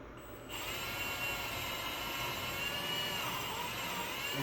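A power drill drives a screw into wood for a wooden phone charging stand, its steady, close whirring motor starting after a brief pause and running on as the screw head countersinks.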